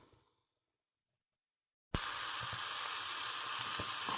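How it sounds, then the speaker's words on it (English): Food fries in a pan on the stove, a loud, steady sizzle that bursts in abruptly after near silence and holds with faint crackles, no talking. "while they're sizzling away there"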